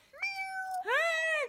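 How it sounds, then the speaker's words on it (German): A pet tomcat in an animated film gives two clear, close meows in quick succession, the second longer and more drawn out, with no other sound around them. "Ich hab nicht aufgepasst, als Mao mir gefolgt ist. Er ist mein Kater."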